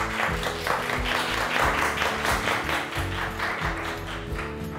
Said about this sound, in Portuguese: palmas para o bode